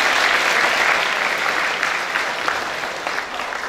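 An audience claps steadily, a dense loud patter of many hands that holds evenly and then eases slightly toward the end, with no voices over it.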